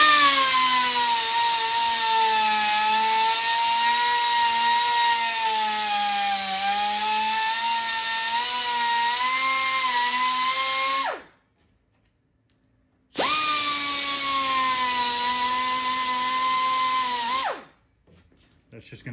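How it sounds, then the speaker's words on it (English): A cutoff wheel trims an overhanging edge on an arcade cabinet, grinding loudly with a high, steady whine for about eleven seconds, stopping briefly, then cutting again for a few more seconds before winding down. "I'm gonna take my cutoff wheel and cut some of it off."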